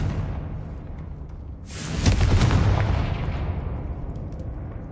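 A Confringo explosive spell cast in Hogwarts Legacy, heard as a single loud burst that follows a low ambient rumble and then fades gradually into a lingering tail.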